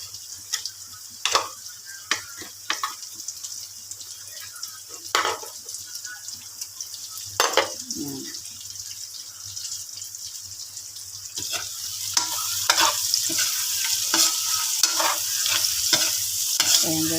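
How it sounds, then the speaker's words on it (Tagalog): Vegetables frying in a pan are stirred with repeated utensil scrapes and clacks over a steady sizzle that grows louder toward the end, close up with no talking. "haluin lang natin"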